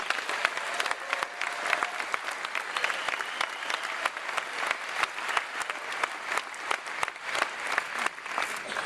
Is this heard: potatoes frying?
no